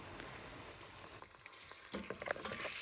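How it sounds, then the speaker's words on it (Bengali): Chicken sizzles in oil with ginger garlic paste and garam masala, a steady frying hiss with a burst of sharper crackles and spoon scrapes toward the end, no talking. "এখন আমি এই তেলের মধ্যে দিয়ে দিয়েছি আদা রসুন বাটা আর গরম মশলা"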